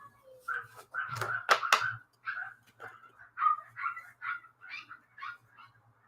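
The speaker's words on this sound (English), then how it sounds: "Will the dog stop barking soon?" A dog barks loudly several times in a burst, then yips and whimpers in a run of shorter, higher calls over a faint steady hum in an indoor room, with no talk.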